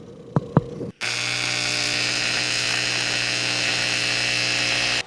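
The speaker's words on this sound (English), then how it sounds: "now we're ready to weld" An electric welder works on a cracked alloy wheel in a repair shop: two sharp clicks, a brief gap, then a steady, even electric buzz that holds close and unbroken for about four seconds.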